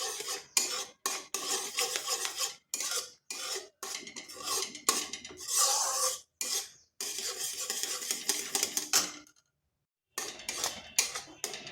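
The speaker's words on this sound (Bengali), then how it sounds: "এরপর ভালোভাবে মিশিয়ে নিচ্ছি" A spoon stirs tomato sauce into carrots cooking in a pan over low heat, giving rhythmic close scraping and clinking strokes against the metal, with light sizzle, one brief pause and no talk.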